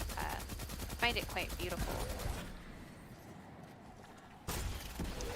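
Rapid gunfire-like bursts pound from a grenade launcher in the Destiny 2 video game, loud and dense for a couple of seconds, then a quieter stretch and a final blast, with someone speaking over the start.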